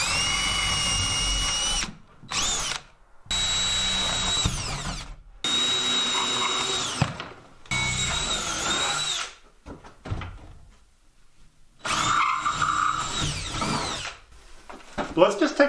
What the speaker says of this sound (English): So we got this long drill bit. We're just gonna be drilling out the corners so that we can see where our window is.